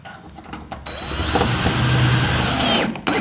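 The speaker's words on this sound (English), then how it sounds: "So I'm going to install 4 of these dome cap screws." A power drill runs steadily for about two seconds, driving dome cap screws into a metal roof bracket for a solar panel mount, loud and close, with brief spin-up and spin-down at either end.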